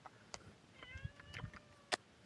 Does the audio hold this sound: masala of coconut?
no